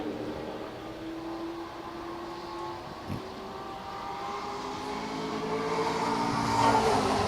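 A race car on a qualifying lap at La Crosse Speedway, its engine a steady droning hum heard from a distance that slowly swells louder toward the end, with no talk.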